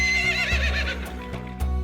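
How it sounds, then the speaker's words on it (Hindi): A horse in a cartoon adventure lets out a loud, wavering whinny while hooves clip-clop in a steady rhythm underneath, close and prominent with no talking. "जल्दी से मेरे घोड़े पर बैठ जाओ और हम लोग सुपरमैन की दुनिया में चलने वाले हैं।"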